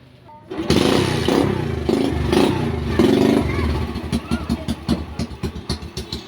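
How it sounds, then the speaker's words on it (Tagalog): An MDL motorcycle with a weak battery is kickstarted and its small engine catches, settling into a loud, steady run and then breaking into pulsing, choppy revs, with a voice talking faintly at first. "Kickstart natin, paandarin natin."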